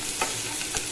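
Potatoes fry in mustard oil with nigella seeds, a constant close sizzle with faint stirring taps now and then and no voices.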